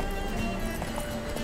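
Roach, Geralt's horse in The Witcher 3 on PS5 Next Gen, gallops with steady, close clip-clopping hoofbeats over continuous game ambience, with no talk.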